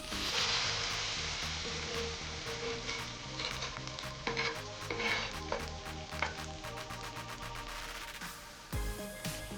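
A prawn omelette fries in oil in a pan, giving a loud, steady crackling sizzle close up, with small pops and clatters as it cooks.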